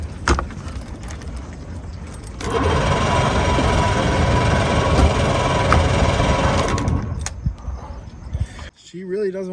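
A Mercury 90 two-stroke outboard cranks over for several seconds with a loud, steady, close grinding churn but does not catch, then falls quiet, with a person talking before and after.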